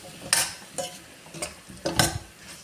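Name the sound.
stirring chicken and potato roast in a pan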